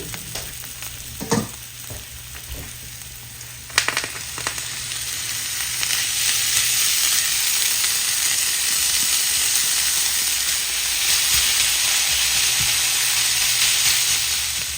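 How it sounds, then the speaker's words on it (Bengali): Minced meat dropped into frying spice paste in a pan, with a couple of clattering stirs followed by a loud, sustained hissing sizzle that swells and holds steady close by. "এখন আমি কিমা দিয়ে দিচ্ছি"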